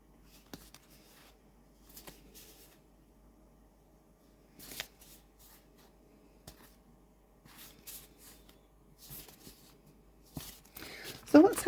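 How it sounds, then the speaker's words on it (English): Smooth linen-finish tarot cards riffled and shuffled in a sparse, quiet pattern of soft papery flicks and bursts, with a louder flurry near the end. "So let's have a look at the shuffle for this."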